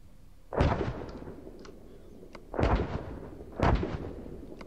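Three loud, booming artillery strike explosions in the ArmA video game, spaced about a second apart, each a sharp impact followed by a short rolling decay, with no talk.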